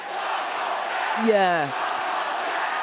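Crowd noise fills a roller derby match at the 2018 Men's Roller Derby World Cup in Barcelona, a broad steady roar with one voice rising into a loud shout midway, and someone speaks briefly.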